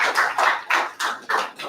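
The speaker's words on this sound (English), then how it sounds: "One more round of very big applause" Brief burst of audience applause at an agri-genomics workshop and seminar, several close, loud rounds of clapping rising and fading in quick waves.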